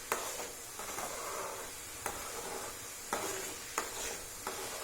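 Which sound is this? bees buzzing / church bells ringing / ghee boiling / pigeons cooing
ghee boiling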